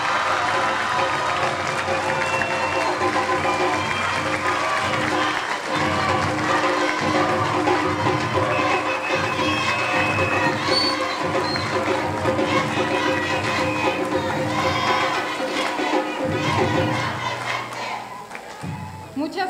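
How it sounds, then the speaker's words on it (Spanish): A crowd at a legislator's annual report event applauds and cheers, with clapping mixed with shouts and chants, loud and sustained over many seconds before tapering off as a voice begins. "Un fuerte aplauso."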